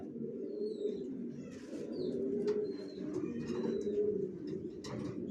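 Racer pigeons coo steadily in a low, continuous murmur close by, with a few faint higher chirps scattered over the top.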